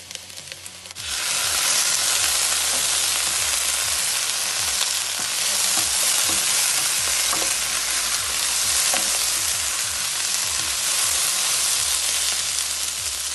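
Sliced peppers for chicken fajitas hit a hot pan and sear with a sudden, loud, sustained sizzle that holds steady throughout, close up, with occasional faint clacks of a utensil and no speech.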